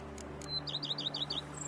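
Birds chirping in The Witcher 3 video game: a quick run of about eight bright, high tweets in a row, clear and close over a quiet ambient bed.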